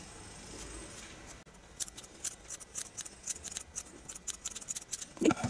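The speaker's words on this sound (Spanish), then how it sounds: "ya esto hay que hacerlo tranquilo, ir cortando" Scissors trimming a yarn pom pom, a quick series of close, crisp snips in irregular rhythm, quiet and alone.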